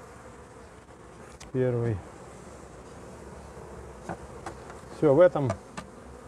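Bees at a Kenyan beehive give two short, loud, close buzzing passes, with faint clicks between and a few brief spoken words.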